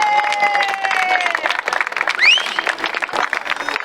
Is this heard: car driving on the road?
no